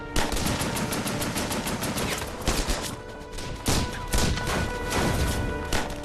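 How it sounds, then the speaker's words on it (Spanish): Machine gun fire in a WWII battle reenactment: sustained rapid bursts crackle loud and close, mixed with overlapping shots and sharp cracks, continuing steadily for about six seconds. "¡Vienen más! ¡Seguid disparando!"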